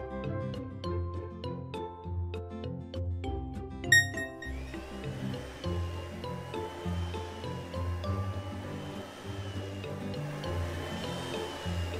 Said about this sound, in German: der Staubsauger saugt den ganzen Müll ein